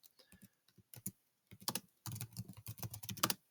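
Bursts of computer keyboard typing, sparse pecking keystrokes at first, then a dense fast run of clicks, close and fairly quiet, with no talking.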